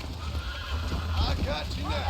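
Horse in Red Dead Redemption 2 gives loud close whinnies with hooves clip-clopping underneath, as a rider jumps from one moving horse to another, while someone talks over the sounds.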